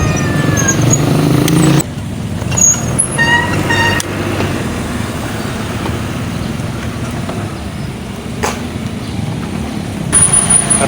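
Busy roadway traffic with trucks and buses in a congested street, loud rumbling engines close by, a short horn toot and clattering noise early on, then steady heavy road noise with passing vehicles.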